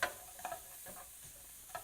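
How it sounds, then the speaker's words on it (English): Chopped onion and garlic sizzle in a hot pan, a faint steady frying hiss broken by a few soft clicks of stirring, with no voices. "I'll put the onion in, so you can hear it sizzling, and the garlic"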